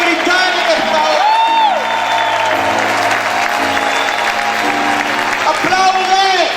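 Church congregation applauding in a sustained, dense roar of clapping mixed with crowd voices, while an amplified voice and music sound over it.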